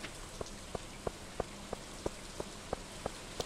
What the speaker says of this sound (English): I like the rain sounds in these games.